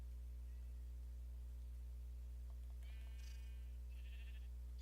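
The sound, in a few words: sheep bleating in Minecraft video game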